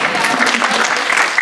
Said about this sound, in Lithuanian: jūs galite aplodismentais apdovanoti mažuosius aktorius